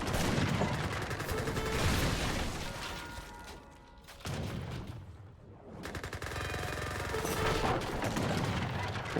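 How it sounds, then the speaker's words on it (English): Gatling guns fire in a real-time strategy game, loud rapid bursts of battle gunfire with booms that pause briefly before the shooting resumes. "Gatling guns from Joychiu."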